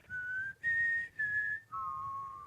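A clear four-note whistled melody from the Hunger Games trailer, each pure tone held briefly with short gaps between, alone and fairly close.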